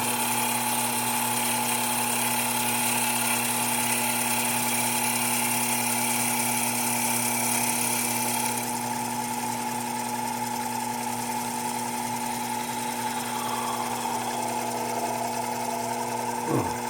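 A drill bores through felt into wood while clamps are made for straightening the neck of an Egmond archtop guitar, giving a loud, steady motor whine with a humming overtone that shifts in pitch partway through.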